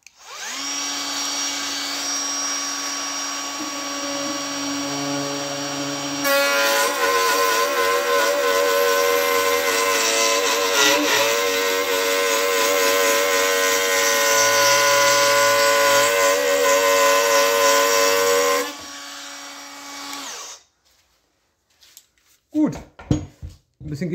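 A Metabo FMV 18 LTX BL 8 cordless edge router with plunge kit and a 16 mm bit cuts wood, a loud, high, whining motor that rises sharply under load for about fourteen seconds, then winds down and stops, followed by a few faint clunks.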